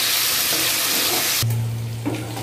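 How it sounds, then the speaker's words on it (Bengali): Paneer lightly frying in hot oil in a kadai produces a loud, even sizzle that drops away sharply partway through, leaving a low hum and a faint clink. "হালকাভাবে ভেজে নিচ্ছি।"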